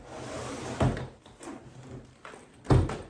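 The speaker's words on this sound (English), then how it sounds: "My suitcase closes with no problem." A carry-on suitcase being shut, with two sharp thumps of the lid and latches and soft rustling of fabric between them, close and without voices.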